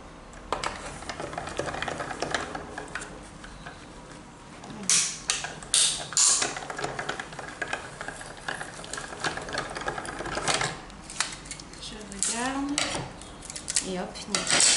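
A Sidekick die-cutting machine cranks a cutting sandwich through its rollers with quiet, irregular mechanical creaks, ratcheting clicks and clatter. The sounds are close and come in bursts over several seconds.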